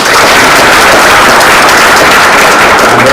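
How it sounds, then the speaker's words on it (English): Conference audience applause for the presenters: loud, dense, steady clapping from a large crowd filling the room without pause. "can we give a final clap to the presenters?"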